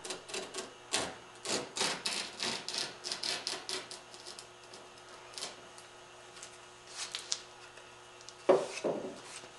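An X-Acto knife cuts into curly maple with a series of close, faint clicking and scraping strokes, busier at first and then sparse, with one sharper knock near the end.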